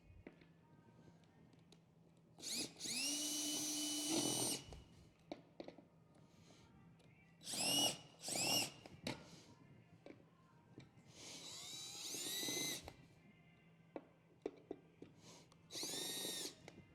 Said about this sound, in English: I'm going to be using my drill today